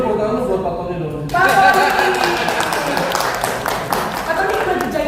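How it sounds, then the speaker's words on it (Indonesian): An audience applauds for Pak Tony, a dense burst of clapping that starts about a second in and carries on steadily, mixed with people talking over it. "Sebelumnya tepuk tangan lu buat Pak Tony dong."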